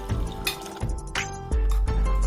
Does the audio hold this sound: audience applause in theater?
no